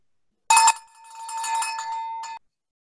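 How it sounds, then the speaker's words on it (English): A bell rung at a club board installation ceremony, a bright metallic clang followed by a sustained ringing tone and a second quieter strike near the end, heard alone and close. "Please ring the bell."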